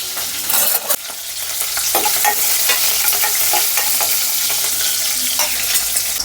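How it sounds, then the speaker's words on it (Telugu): Green chillies frying in a pan for poori curry, a loud, steady sizzle with occasional stirring scrapes running throughout, no voices. "కొంచెం పచ్చిమిరపకాయలు అన్న వేగిన తర్వాత"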